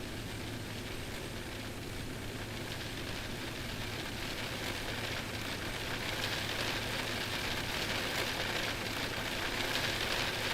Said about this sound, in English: Really good rain sound, actually.